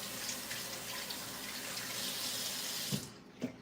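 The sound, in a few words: water running from a tap while rinsing a hand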